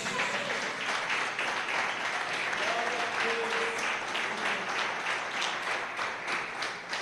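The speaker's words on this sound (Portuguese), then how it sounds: "Você pode aplaudir o Senhor por isso?" Steady applause from a church congregation fills the whole stretch, dense and sustained, with a few faint voices mixed in underneath.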